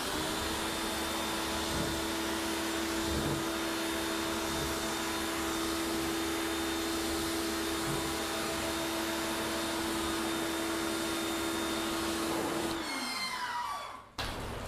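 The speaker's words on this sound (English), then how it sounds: "we're going to rinse the whole lot with the pressure washer" A pressure washer rinses the paint on a car during a touchless sealant test, a continuous, steady roaring drone with a constant whine that holds for many seconds before cutting off near the end.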